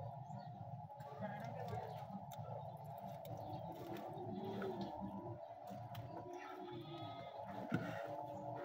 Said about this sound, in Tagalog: umiyak yung kambing ko